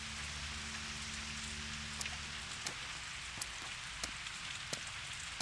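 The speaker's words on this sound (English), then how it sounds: "It's raining pretty damn hard." Heavy rain pours in the game Pathologic 2 as a steady hiss of drops drumming on surfaces, with sharp, regularly spaced ticks and a low hum beneath and no talk.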